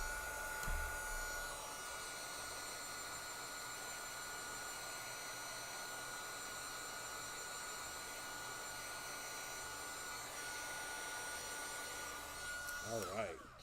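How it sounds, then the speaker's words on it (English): Heat gun blowing a steady, even whir while heat-setting ink on a handmade card, a continuous airy drone close by with a little handling noise at the end. "let me heat set it real quick because we put a lot of ink on there"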